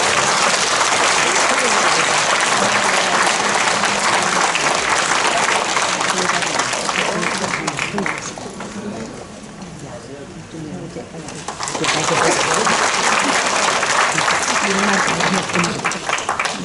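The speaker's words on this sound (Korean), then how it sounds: "큰 박수로 맞아주시기 바랍니다." Sustained applause from residents at a public redevelopment briefing in Mapo district, Seoul, as the district mayor enters, dense clapping that dips briefly in the middle before swelling again.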